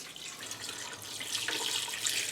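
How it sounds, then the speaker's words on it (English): Water pours from a tap into a stock pot holding chicken and other ingredients, a soft steady rushing stream that swells slightly toward the end, alone with no talk. "So all ingredients in the stock pot. Water. Just pour it."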